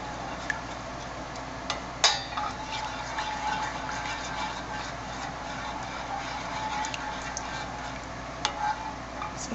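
A spoon stirs potato soup in a pot, making soft scraping and scattered light clicks against the sides, with a sharper knock near the start, close and fairly quiet throughout.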